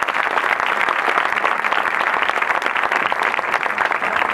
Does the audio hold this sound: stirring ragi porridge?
no